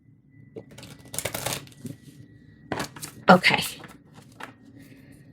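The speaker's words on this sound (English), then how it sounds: "This is a hard deck to shuffle." A tarot card deck is shuffled in several quick riffling bursts with crisp snapping flutters and pauses between them. A voice speaks briefly.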